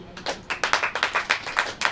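A congregation at a church sermon claps in unison, about a dozen crisp rhythmic claps at a steady pace, fairly close and alone.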